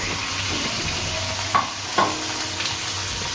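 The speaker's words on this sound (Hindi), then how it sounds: "तो इसमें हमने ये 1 kg चिकन डाल देना।" One kilogram of chicken going into frying pulao masala and being stirred: a steady close sizzle with two sharper scraping or plopping hits midway and a faint tonal hum, no talking.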